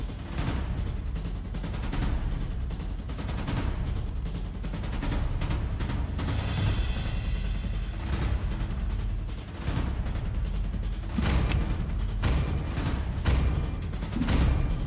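Dense game gunfire in a mobile shooter match, rapid bursts and single shots crackling continuously with booming impacts, loud and busy throughout, no talking.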